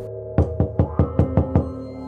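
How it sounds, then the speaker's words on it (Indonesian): Seven even knocks on a bedroom door at night, sharp and close, in a quick steady rhythm over a continuous low background hum and musical tones. "pintu kamar tiba-tiba ada yang mengetuk"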